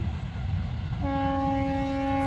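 A train sounds its horn in fog, a steady sustained blast that begins partway through over continuous rumbling of rail traffic, fairly loud and close with no voices.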